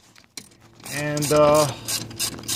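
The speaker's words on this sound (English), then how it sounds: "And now you can just remove the bolt securing the sensor in place." Ratchet loosening the bolt on a brake pedal position sensor of a GMC Acadia or Chevrolet Tahoe, a close clicking, whirring run of pawl ticks rising after a sharp initial click.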